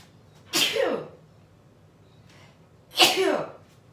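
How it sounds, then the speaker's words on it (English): Two loud sneezes about two and a half seconds apart, each a sharp burst trailing off, close to the listener with quiet between them. "Oh, I gotta sneeze, excuse me."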